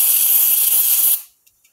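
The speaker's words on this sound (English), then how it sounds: "Just spray it on the pad." Brake or carb cleaner sprayed from an aerosol can onto a pad, a loud close steady hiss lasting about a second before cutting off abruptly, followed by two faint small taps.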